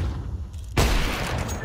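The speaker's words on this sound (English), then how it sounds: "Throw a flashbang" A flashbang grenade goes off in a tactical shooter game with a sudden loud broadband blast; a bright sustained ringing wash follows after a quieter stretch of ambient game noise.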